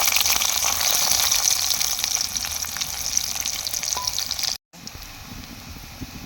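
Onion frying in hot oil with cinnamon and cardamom, giving a steady hissing sizzle that breaks off briefly near the end before resuming more quietly.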